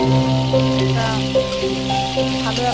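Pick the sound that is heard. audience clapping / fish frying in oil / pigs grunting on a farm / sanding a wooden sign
fish frying in oil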